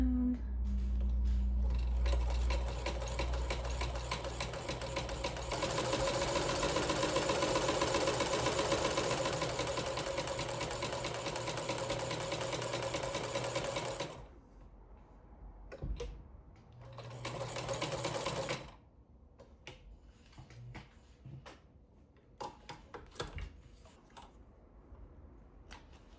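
A vintage Singer sewing machine runs loud and steady for about fourteen seconds, then stops and starts again in short bursts with quieter gaps. Its last run is a brief one, and faint voice-like sound sits underneath in places.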